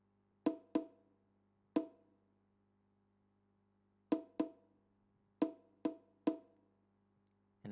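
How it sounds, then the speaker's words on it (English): A counter bongo part in a programmed afrobeat groove: short, bright hand-drum strikes in syncopated pairs and singles with gaps between, each decaying quickly, over a quiet steady low hum. "And a counter bongo."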